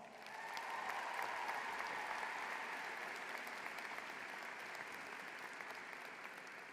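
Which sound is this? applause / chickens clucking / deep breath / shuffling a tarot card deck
applause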